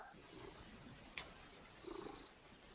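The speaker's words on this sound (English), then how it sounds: "There's a cat purring." A cat purring faintly and steadily, low and close, with a brief sharp click near the middle and a slightly louder swell toward the end.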